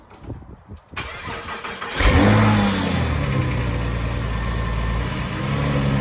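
A Porsche 911 996 C4S flat-six starts after a second of quiet, flares up, then settles into a loud, steady, slightly rattly idle that holds to the end.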